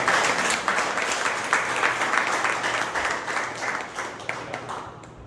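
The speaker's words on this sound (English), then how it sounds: "Let's have a big round of applause." Audience at a Toastmasters club meeting giving a round of applause, dense steady clapping from a roomful of people that fades out near the end, with no talking.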